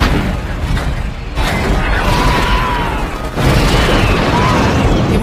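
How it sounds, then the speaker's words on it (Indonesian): Heavy artillery fired by American troops in a Vietnam War film booms and rumbles loudly in a dense, continuous barrage with debris-like crashes, while faint voices sit underneath. "artileri berat mulai ditembakkan oleh pasukan Amerika untuk menghalau musuh yang semakin mendekat"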